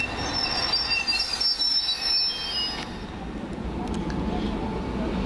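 A London Underground Piccadilly line train bound for Cockfosters at Stamford Brook, its wheels squealing loudly in high shrill tones over a steady rolling rumble, the squeal fading after a few seconds while the train keeps running.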